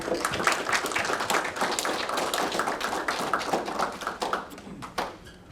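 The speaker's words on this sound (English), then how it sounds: "So please just give them a round of applause for everybody." Audience clapping at a summer mentoring program celebration, with scattered individual claps and taps, moderately loud at first and thinning out over about five seconds.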